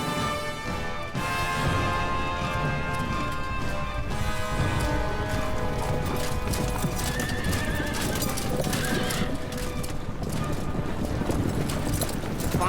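Horses whinny and gallop, hooves clattering in a busy, continuous mix, with crashing movement and a dense wash of activity throughout.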